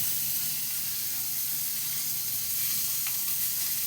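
A spiced teasel gourd mixture with turmeric fries lightly in a pan, making a soft, even sizzling hiss that holds steady throughout without talk.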